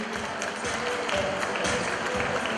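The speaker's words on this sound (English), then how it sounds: "Big round of applause and thanking them." Audience at a fashion show applauding, a continuous wash of many hands clapping with a faint crowd murmur underneath, steady and fairly loud throughout.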